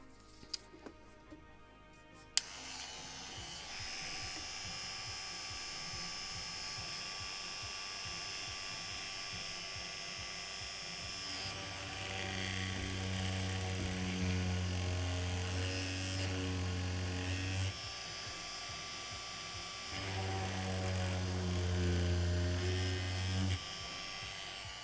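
A small hobby drill fitted with a 0.9 mm bit works on the rudder of a Model Shipways kit of the 1776 gunboat Philadelphia, giving a steady high whine for over twenty seconds after a few brief clicks.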